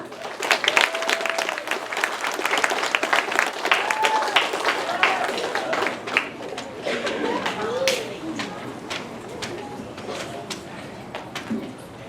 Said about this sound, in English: We can still clap though.